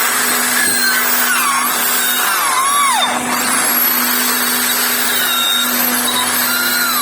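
A power tool grinds out the water channels in a cracked, rotted cylinder head that has been welded, with a loud, steady, whining drone that holds on without letup and no voices.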